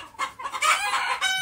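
A crowd of roosters and hens on a house roof clucks and squawks close by, the calls swelling into a louder, sustained burst of overlapping cries that holds to the end.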